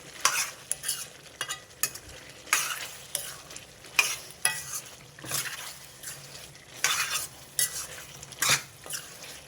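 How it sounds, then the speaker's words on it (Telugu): Ginger garlic paste with turmeric fries in hot oil while a spoon stirs it repeatedly, giving a steady sizzle broken by regular scraping strokes against the pan, close and fairly quiet with no talking. "ఇదొక 1 మినిట్ అల్లం వెల్లుల్లి పేస్ట్ పచ్చివాసన పోయేదాకా ఇలా కుక్ చేసుకుంటా"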